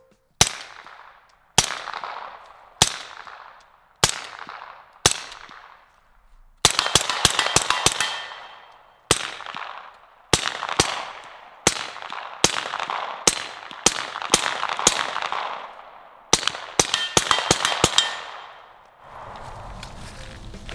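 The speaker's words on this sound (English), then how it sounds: "when it goes subsonic, it is absolutely pleasure. You can just hear nothing but just a little bolt, little pressure" A suppressed gun fires subsonic rounds in a steady series of sharp, clipped shots, spaced singly at first and then in quick bursts, each with a short decaying tail and the metallic clack of the cycling bolt.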